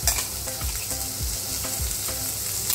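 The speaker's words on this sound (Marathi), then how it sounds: "लालसर कांदा भाजल्यानंतर त्यामध्ये बारीक चिरलेले टोमॅटो आणि वाटण टाकून घेते" Fried onions with chopped tomatoes and spice paste sizzle loudly in a pan, a spoon scraping through them in a steady rhythm of about one stroke every half second, with no talk.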